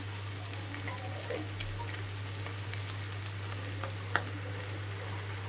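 Spice masala for dal tadka fries in a pan with a soft, steady sizzle and scattered small pops over a low constant hum.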